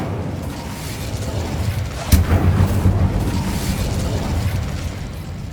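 Incendio fire spell cast in Hogwarts Legacy: a sudden loud whooshing burst midway, followed by a crackling, rumbling flare that sustains over steady game background sound.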